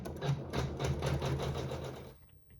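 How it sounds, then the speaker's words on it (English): Sewing machine stitching a fabric seam on a phone stand project, a close, steady rapid whirring chatter running for about two seconds before stopping abruptly. "with the same thread, we'll sew the seam"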